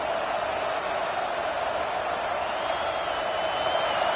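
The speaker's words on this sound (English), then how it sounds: "Listen to the crowd energy here in the early going." A large football stadium crowd roars steadily in the distance, a dense, continuous wash of cheering voices that holds at a constant level.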